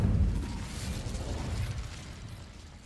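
Incendio fire spell cast in Hogwarts Legacy, a short whooshing burst of flame that flares loudly at the start and then rumbles and crackles as it fades over a few seconds.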